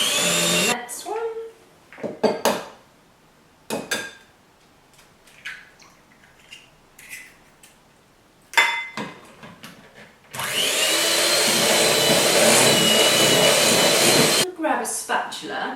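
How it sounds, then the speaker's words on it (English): An electric whisk beats eggs into Christmas cake batter in a steady, loud whir lasting about four seconds. Before it, people talk, with bowl clatter and short bursts. "We'll just whisk briefly in between each one."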